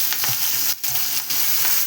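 Curry leaves and tempering sauté in a pan with a loud, close sizzle and stirring scrapes, briefly dropping out near the middle before resuming, with no talk.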